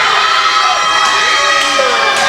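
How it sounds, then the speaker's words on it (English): A rowdy crowd at a wrestling show cheers and shouts loudly and without a break, with high-pitched yelling that sounds like children mixed into the din. "this crowd seems to be really ruckus."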